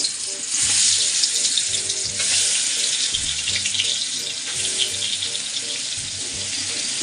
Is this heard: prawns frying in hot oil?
yes